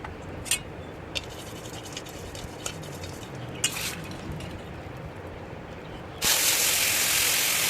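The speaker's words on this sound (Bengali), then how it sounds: "আমি এখন ফোড়ন দিয়ে নেব ফোড়নে দেবো জিরে" Cumin seeds dropped into hot oil for tempering while a Bengali fish curry with green banana is prepared; a quiet stir and a few clinks come first, then a loud, steady hiss of sizzling bursts in and holds.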